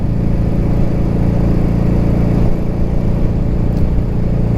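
A Suzuki GS550 motorcycle engine running low on gas, giving a loud, steady, close mid-pitched rumble that holds evenly without revving up or down.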